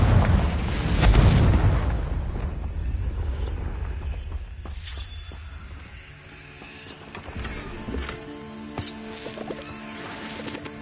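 A Confringo spell cast in Hogwarts Legacy bursts with a loud booming blast up front, followed by crackling debris and scattered sharp impacts over a low rumble that slowly tapers away.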